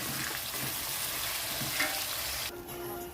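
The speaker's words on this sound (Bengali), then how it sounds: "খিচুড়ির জন্য সবজিটা ভাজা হচ্ছে" Vegetables frying for khichuri in a pan for a Janmashtami meal, a steady close sizzle with occasional stirring, cutting off briefly near the end before resuming.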